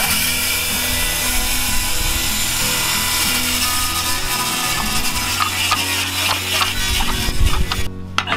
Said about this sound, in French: c'est les toutes nouvelles scies circulaires de chez Bosch